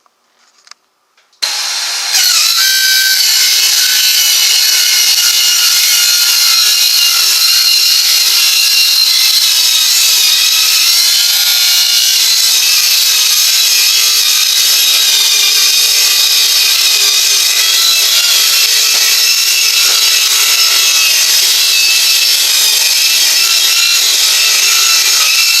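A power saw cutting through plywood on a stair landing starts abruptly after a moment of near silence, then runs as a loud, close, continuous high-pitched grinding buzz until the end.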